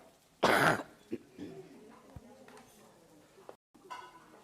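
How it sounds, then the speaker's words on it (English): A loud, harsh cough bursts out early, followed by a few softer throat sounds and light shuffling in a quiet room. "It's the chili that's triggering us now to cough."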